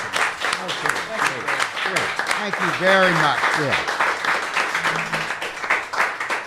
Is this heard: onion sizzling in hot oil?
no